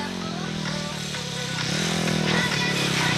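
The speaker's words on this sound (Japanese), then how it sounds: "エンジン関係ほとんどノーマルの VTR 250、真っ黒な VTR がスタートしていきました。" A black Honda VTR 250 with a near-stock engine starts a moto gymkhana run, its engine revving up loudly and steadily with rising pitch as it pulls away close by.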